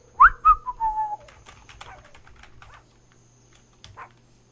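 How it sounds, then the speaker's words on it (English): A character in World of Warcraft: Battle for Azeroth whistles a few short, clear rising-and-falling notes near the start, then faint clicks and rustles follow in an otherwise quiet scene. "Whistles."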